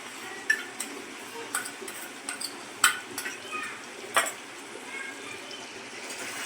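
Ground masala paste being stirred into a prawn curry in a pan: soft, intermittent clinks and scrapes of a spoon against the pan, fairly quiet, with a few sharper taps spread across the stretch.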